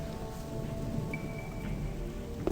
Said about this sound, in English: Just raining inside the cave.